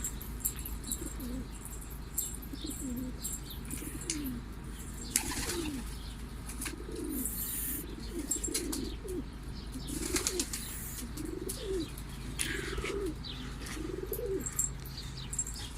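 Domestic pigeons cooing in a repeated, rhythmic series of soft low calls, with bursts of wings flapping as birds land and take off, fairly close and clear against faint background noise.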